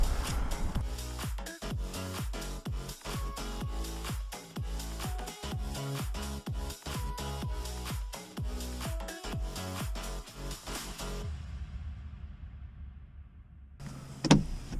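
A Suzuki Swift Sport's power windows close one after another with wind deflectors fitted. A steady motor whir runs beneath a rhythmic musical bed, then it goes quiet and a brief thump lands near the end.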